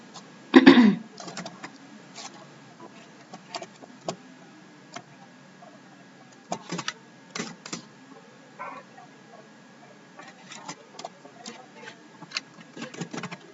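Sparse clicks on a computer keyboard sound close and quiet, with a louder key press early on and irregular clusters of taps after it.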